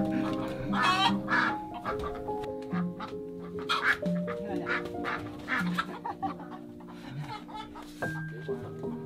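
Chickens kept beneath a house cluck in short repeated bursts, close and fairly loud, while a dog barks now and then and people talk over them.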